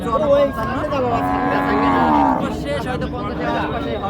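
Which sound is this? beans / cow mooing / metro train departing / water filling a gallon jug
cow mooing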